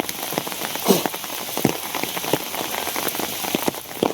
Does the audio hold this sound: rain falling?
yes